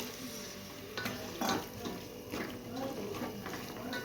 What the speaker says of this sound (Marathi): थोडस पाणी टाकून घेऊ